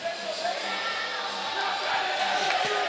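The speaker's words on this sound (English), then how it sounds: "And you can hear the crowd and the way they're sounding." Crowd noise at a 2024 WIAA boys high school hockey game, a steady broad roar of fans cheering after a goal, loud and sustained throughout with no clear voices on top.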